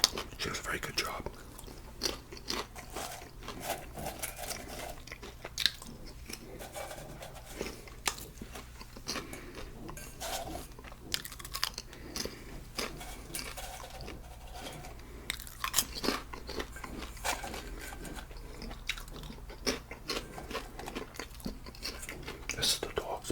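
Crunchy homemade kettle corn being chewed close to the mic, a steady run of crisp bites and crunches lasting over twenty seconds, with soft whispering mixed in at times.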